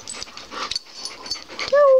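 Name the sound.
dogs in the house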